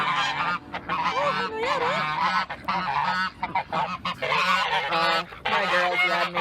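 Geese honk loudly and repeatedly at close range in a backyard poultry coop, overlapping calls in uneven bursts, with a brief spoken line from a person among them.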